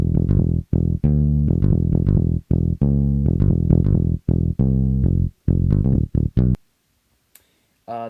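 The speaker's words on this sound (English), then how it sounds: "So just a basic funk bass line" A punchy, plucked funk bass line made in GarageBand, following chord root notes in a syncopated, stop-start rhythm with deep, round notes and short gaps, ending in a brief silence and a faint pluck.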